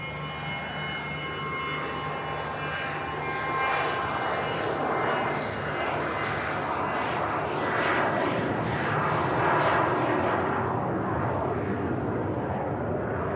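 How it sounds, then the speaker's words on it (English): A Eurofighter Typhoon jet takes off at Manchester Airport, a loud, sustained broadband engine roar that swells and rumbles steadily throughout, with no talk over it. "It's a Eurofighter Typhoon just taken off."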